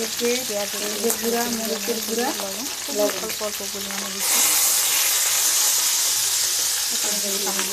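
Spices sizzle in a pan for turnip fry while a person talks, then water goes in and a loud, steady hissing boil takes over close by, with talk returning near the end.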